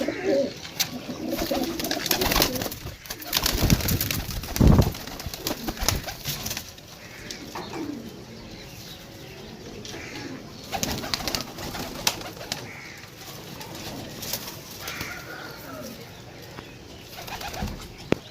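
Pigeons coo nearby in soft, low, repeated calls, with occasional wing flaps and rustling over a busy, moderately loud outdoor background.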